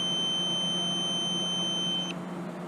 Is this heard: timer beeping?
yes